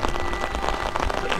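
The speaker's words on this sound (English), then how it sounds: "The clouds, it's raining." Rain falling outdoors, a dense close patter of drops on surfaces, steady and fairly loud over the brief moment with no voices.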